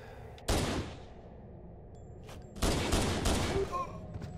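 Pistol fire in the Halo game on Xbox One during a 1v1 match, heard as two loud bursts of shots separated by a short quiet gap, with faint talk in the background.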